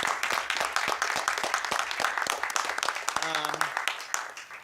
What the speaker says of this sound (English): Round of applause for Rod